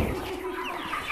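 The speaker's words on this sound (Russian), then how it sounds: "мясо яичные курочки. Хорошенькие такие" Young Master Grey meat-and-egg hens cluck continuously on a village farm, with close, busy, overlapping calls over a dense barnyard background.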